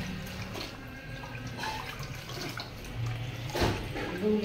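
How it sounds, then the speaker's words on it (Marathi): Taro (alu) leaves being rinsed under running tap water, a steady close splash and trickle with occasional louder spatters. "चला आज पानं धुवून घेऊया"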